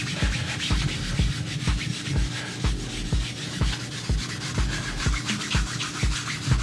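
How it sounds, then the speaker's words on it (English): Rhythmic rubbing strokes of a cloth working Tru-Oil finish into the wooden body of a DIY jazz bass, steady back-and-forth passes close up at an even pace. "Rub it in like as if it were polish"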